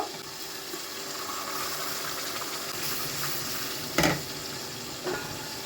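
Eggs and potatoes fry in a pan with a splash of water, giving off a steady, even sizzle and hiss. Two brief clatters from stirring break through the frying.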